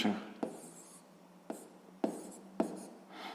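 Pen writing out a sixth-grade math answer on paper, a faint, soft scratching with a few sharp taps as strokes start, quiet and close with no talk.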